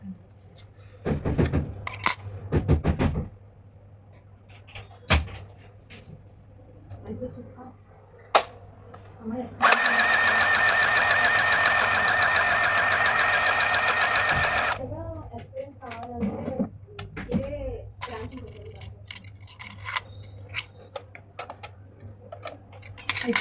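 A Flipkart Smart Buy mini sewing machine runs in one continuous whirring burst of about five seconds, close and fairly loud, with scattered clicks and handling noises and people talking before and after.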